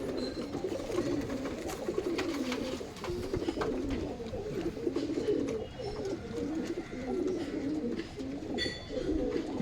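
Pigeons of one breeding generation in a home loft coo and flutter steadily, a dense, continuous murmur of soft calls close by, with no talking over them.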